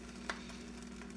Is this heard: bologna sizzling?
yes